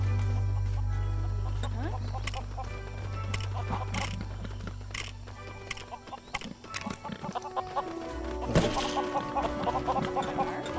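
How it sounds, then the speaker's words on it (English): Chickens cluck in the video game Lego Worlds, giving short clucks and pecks over dense game music with clip-clop-like percussive hits. The sounds stay moderately loud throughout. "There's our chicken."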